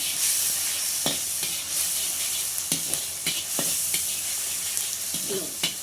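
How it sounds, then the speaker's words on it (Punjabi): Garlic ginger paste fries in a pan for a bitter gourd (karela) masala dish with a steady loud sizzle. Several sharp spoon-stirring clacks and scrapes punctuate it. "ਲਸਣ ਅਦਰਕ ਦਾ ਪੇਸਟ ਪਾ ਕੇ ਹੁਣ ਇਹਨੂੰ ਆਪਾਂ ਚੰਗੀ ਤਰ੍ਹਾਂ ਥੋੜਾ ਜਿਹਾ ਭੁੰਨ ਲੈਣਾ"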